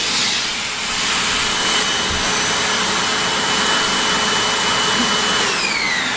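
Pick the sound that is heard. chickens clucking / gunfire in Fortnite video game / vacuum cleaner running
vacuum cleaner running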